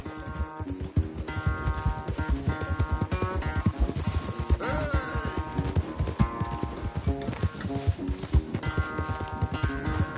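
Rhythmic hoofbeats of a horse galloping in a PS4 video game race, steady and fairly loud beneath layered game music, with a brief whinny-like sweep partway through.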